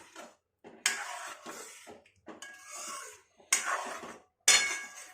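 Spoon clinks and scrapes against a pan while ripe mango payesh is stirred, coming in several short bursts with quiet gaps between them.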